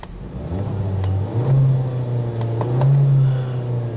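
The 1.6-liter turbocharged direct-injection engine of a 2016 Kia Optima LX Turbo, paired with a 7-speed dual-clutch transmission, idles and revs with a steady low rumble that swells twice, close and loud with no talking.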